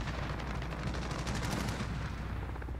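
A loud, continuous burst of automatic gunfire from a shooter video game, with rapid shots blurring into a dense rattle for nearly three seconds and heavy low rumble, no talking over it.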